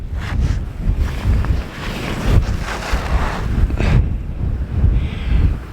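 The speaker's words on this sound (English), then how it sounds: "it's very windy up here" Strong wind buffets the microphone on the cliff top at Bennan Head on the Isle of Arran, a loud, continuous roar with low rumbling gusts rising and falling throughout, and no voices.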